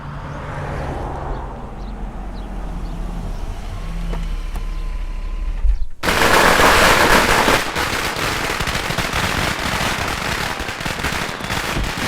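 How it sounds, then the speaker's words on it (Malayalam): Low engine hum and faint beeping, then a sudden loud barrage of firecrackers bursting at a wedding in rapid, dense crackling pops that keep going. "ഏത് ഭ്രാന്തരാണ് ഇവിടെ പടക്കം പൊട്ടിക്കുന്നത്"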